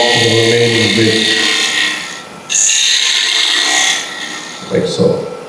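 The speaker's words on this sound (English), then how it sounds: "I find the center and I drill through that center, just pushing in straight" A drill bit pushed straight into the centre of a wood workpiece on a lathe, giving a loud grinding, rasping whir that cuts out briefly and resumes, with brief scraping toward the end.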